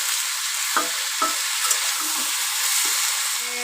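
A vegetable curry of potato, onion stalks, beans, aubergine and peas frying in a wok, a steady close sizzle broken by a few scraping stirs of a spatula.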